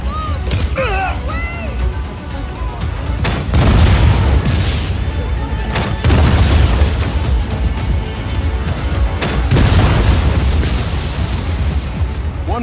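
Explosions and debris crashes from the Just Cause 4 video game as a wind cannon is destroyed, with repeated heavy booms over a dense, continuous rumble of gunfire and effects, loud throughout, alongside brief in-game voices.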